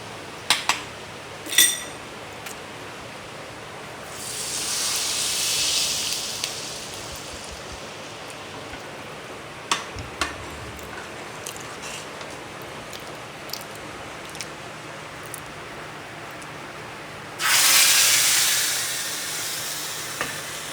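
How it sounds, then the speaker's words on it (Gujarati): Hot oil tempering with Kashmiri red chilli for kadhi pakoda flares up in two loud bursts of sizzling hiss, with scattered clinks of spoons and pots between them. "હવે આપણે આનો વઘાર કરી દઈએ."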